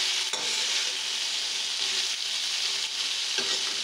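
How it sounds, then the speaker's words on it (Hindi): Black chana masala (ghughri) seasoned with chaat masala and Maggi masala sizzles steadily in a pan, with a few soft scraping stirs cutting through the continuous frying hiss. "इसमें हम अपना चाट मसाला भी डाल के इसमें मिक्स कर देंगे"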